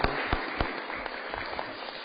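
Applause from an audience at a city Board of Aldermen meeting, a steady dense patter of many hands clapping, moderately loud and unbroken for about two seconds.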